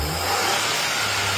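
A car engine revs hard during a turbo check after parts replacement, a loud, close, sustained roar that rises briefly and holds throughout.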